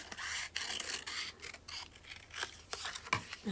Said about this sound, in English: I can cut it a little bit smaller.